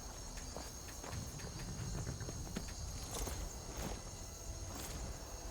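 Shadowmere, the horse in Skyrim's Shivering Isles, walks at a steady clip-clop. The hoofbeats sound close but soft over a faint ambient hum, with no talk.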